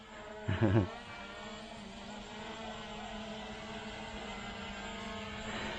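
A small non-GPS drone flying on altitude hold gives off a steady, faint propeller whine that continues across the whole stretch, with a brief louder bump near the start.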